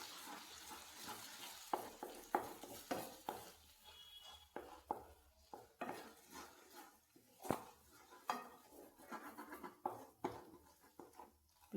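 Spoon stirring a bread and egg mixture seasoned with pepper in a frying pan, a soft scraping and tapping against the pan with faint sizzle underneath, steady and fairly quiet throughout.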